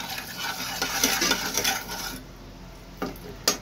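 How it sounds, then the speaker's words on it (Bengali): Salt and turmeric stirred into hot oil in a pan, a steady close sizzle with scraping spoon strokes that thins to faint crackle, then two sharp clinks of utensil on metal. "এবার দুটোকে একসাথে ভালো করে মিশিয়ে দেব তেলের সাথে।"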